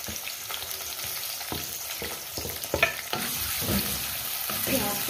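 Sliced onions sizzle in hot oil as a spoon stirs them, with scattered scrapes and knocks against the pan over a moderate, steady frying hiss, heard close with no voices.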